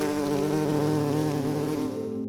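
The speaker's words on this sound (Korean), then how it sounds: "다카노가 여러 가지를 생각하고 있던 사이 벌집 속 그리고 어디에선가 말벌들이 나타납니다." Dense swarm of wasps buzzing loudly and steadily, a continuous droning hum with no voices, used as a sound effect in a narrated mystery story.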